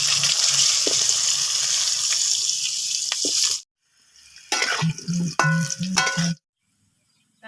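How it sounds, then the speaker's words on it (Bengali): Potatoes frying in hot oil in a kitchen while Bengali-style katla fish is prepared, a loud continuous sizzle that cuts to near silence, then resumes in short bursts with clinks of stirring. "সেই তেলে আমি ভেজে নেব আলু"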